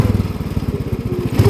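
A Harley motorcycle engine chugs in a deep, loud, uneven putt-putt idle up close, the lumpy thumping firing rhythm swelling slightly as the throttle opens near the end.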